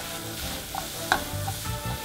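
Zucchini zoodles sizzle in olive oil in a pan, a steady close frying hiss with a few soft stirring scrapes and one brief sharper clink partway through.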